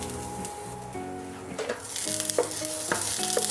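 Minced ginger fries in oil as a spatula stirs it, scraping strokes and rising sizzle over a faint background hum, growing louder and busier toward the end.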